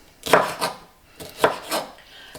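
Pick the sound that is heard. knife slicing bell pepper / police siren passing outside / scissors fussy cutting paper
knife slicing bell pepper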